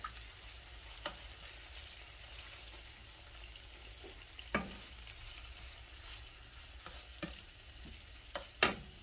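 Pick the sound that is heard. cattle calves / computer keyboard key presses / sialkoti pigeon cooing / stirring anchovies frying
stirring anchovies frying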